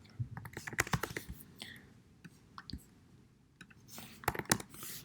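Light, irregular clicks of computer keyboard typing come in quick bursts with short pauses, close and fairly quiet.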